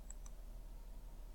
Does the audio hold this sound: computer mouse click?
yes